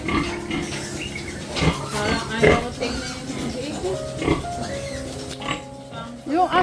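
Pigs on a farm pen with newborn piglets, grunting, oinking and squealing steadily at close range, overlapping with people talking throughout.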